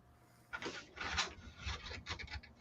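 Screw head being sanded off by hand at close range, a dry rasping rub in uneven bursts that starts after a short quiet lead-in and repeats in strokes.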